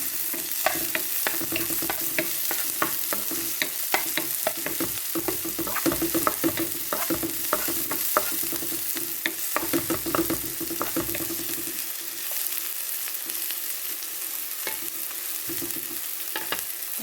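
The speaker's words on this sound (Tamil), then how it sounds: "இப்போ வெங்காயம் ரெண்டு செத்த மிளகாய் எடுத்து போடுறேன்" Onion and dried red chillies fry in a pan with fennel seeds, a steady close sizzle broken by frequent scraping and stirring clatter, fading quieter near the end; no one speaks.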